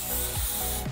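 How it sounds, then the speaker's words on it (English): Spray glue hisses out of an aerosol can in one continuous burst lasting about a second, close up and quiet, with no voices. "Spray glue."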